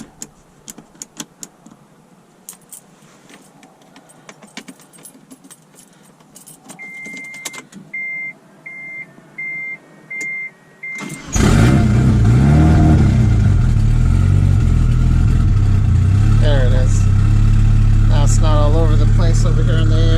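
A Mitsubishi Galant VR-4 engine cranks and catches in a dark garage after faint key jingles and a warning chime, then settles into a loud, close, steady idle with rising revs.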